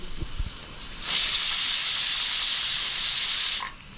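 A pressure cooker cooking pulao outdoors near a dam lets out one loud, steady hissing whistle of steam lasting about two and a half seconds, after a few faint knocks and with no talking.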